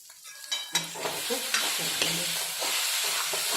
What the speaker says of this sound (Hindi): अब इसमें हम ऊपर से फिर डालेंगे 1 छोटा चम्मच सरसों का तेल